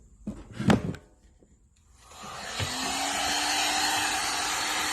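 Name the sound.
heat gun heating speaker terminal during sub recone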